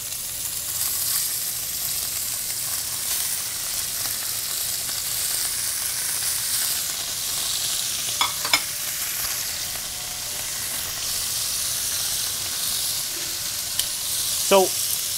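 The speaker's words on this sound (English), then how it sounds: "we have to get a nice, beautiful sear on these short ribs that are gonna develop a lot of flavor" Beef short ribs searing in a hot pan, a loud, continuous hiss and crackle of sizzling fat throughout, with a couple of faint clinks from cookware.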